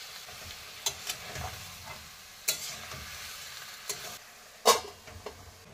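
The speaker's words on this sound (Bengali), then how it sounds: "টমেটোগুলো হালকা করে একটু নেড়ে নিই" Tomatoes fry in a pan while a spatula stirs them, soft continuous sizzling broken by a few sharp metallic clinks and scrapes, close and fairly quiet with no talking.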